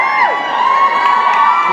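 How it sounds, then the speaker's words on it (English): Convention crowd at a Supernatural fan panel cheering and shouting loudly, a dense wash of high voices and whoops, close and continuous. "Now they're cheering for me."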